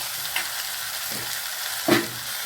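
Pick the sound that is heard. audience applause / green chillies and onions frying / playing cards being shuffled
green chillies and onions frying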